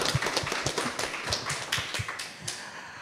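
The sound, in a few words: applause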